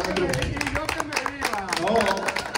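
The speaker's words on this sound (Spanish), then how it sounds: "realmente queremos dar un fuerte aplauso aquí a nuestro" An audience at a reunion of basketball pioneers claps in scattered bursts of applause, heard under a speaking voice that carries on throughout.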